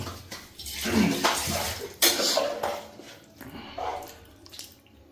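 Water splashes and runs in short bursts as hands are rinsed, close by, with uneven pauses between the splashes.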